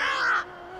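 A crow gives a single loud, harsh caw close by in a bare, leafless tree, the call lasting under half a second before fading into quiet background.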